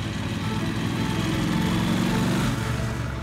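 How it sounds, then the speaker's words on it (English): A Triumph Bonneville Speedmaster motorcycle's 1200cc parallel twin engine runs steadily and loudly close by, a low throbbing drone with a slight rise in pitch near the end as the throttle is opened. "The 1200cc parallel twin engine has the performance and range for all kinds of riding"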